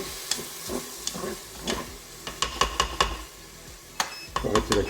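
Rice is stirred with added vegetable broth in a Cookeo multicooker, with repeated scraping clicks of the spoon against the pot over a soft sizzle, in an irregular rhythm.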